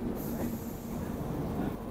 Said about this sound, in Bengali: আর আমাদের ট্রেনটা এই বাঁ দিকে টার্ন নিল, পুরী যাওয়ার রাস্তাটা ধরলো।